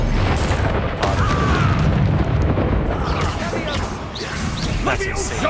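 Blasts from the Bombarda explosion spell in the wizarding game Hogwarts Legacy: heavy, rumbling booms and crashing bursts that run continuously and loudly under a player's excited voice and other battle effects.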